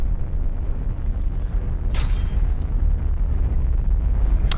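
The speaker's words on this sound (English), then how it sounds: "Oh, that massive Nova cannon." A Nova cannon fires in the space strategy game Battlefleet Gothic Armada, a heavy booming blast over a constant loud rumbling game soundscape, with one sharp burst standing out midway.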